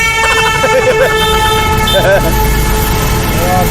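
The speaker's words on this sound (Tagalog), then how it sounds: "May parada po ng mga busina." A parade of vehicle horns honk and toot in overlapping bursts amid loud street noise, with people talking nearby throughout.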